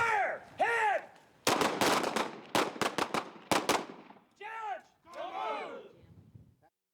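Sharp gunshots from a shooting range in quick bursts, loud and close, between shouted commands and voices before and after the firing.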